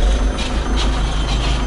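A Terex backhoe loader's diesel engine runs at a steady low idle, a loud, dense rumble that stays level throughout with no talk.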